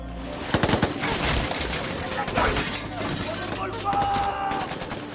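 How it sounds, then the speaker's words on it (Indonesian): Gunfire rings out in an action-film shootout between police and ISIS fighters: rapid bursts and scattered shots crackle at moderate loudness, partly under a narrating voice, ending with a brief tonal ring. "3 orang polisi lokal yang saat ini sedang baku tembak dengan kelompok ISIS"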